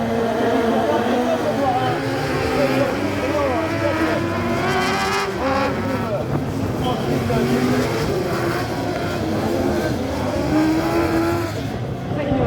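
Buggy Cup autocross race cars at the Montauban autocross roar past on a dirt track, engines rising and falling as they pass one after another at moderate distance, with a commentator talking over the noise.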